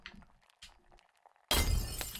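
Glass shatters into shards in a video game. Quiet, scattered sounds come first, then a sudden loud crash that rings on with a sustained jangle of breaking glass.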